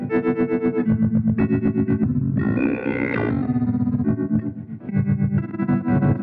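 Montreal Assembly Count to Five pedal in transcendence mode, mode one, turning a played instrument into loud, dense, warped effects: stuttering repeated notes, a rising pitch-shifted swell in the middle, then choppy rhythmic repeats, with no talking.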